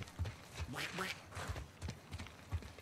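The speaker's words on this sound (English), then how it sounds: "He was making a duck sound." A game character in The Last of Us Part II makes nasal duck quacks, a few short bursts among footsteps and scattered background noise.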